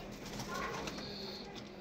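A dolapçı pigeon coos softly on a balcony, a faint, steady murmur with low background hum throughout.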